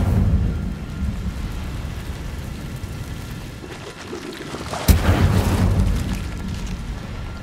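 An Incendio fire spell cast in Hogwarts Legacy sets off a sudden fiery burst and a roaring whoosh that trails off, following a few seconds of rumbling, crackling background noise.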